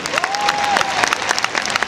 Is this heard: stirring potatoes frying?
no